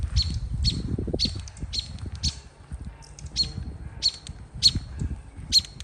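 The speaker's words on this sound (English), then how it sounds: "Now we've got a robin chirping," A robin chirps in a spring setting in Alaska, giving short, high chirps at a steady pace over a low rumbling background.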